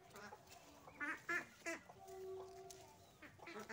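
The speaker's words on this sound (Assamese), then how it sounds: "এয়া লোকেল হাঁহ" Local village ducks quack in short, scattered calls near and far, some overlapping, against a quiet outdoor background with faint poultry clucking mixed in.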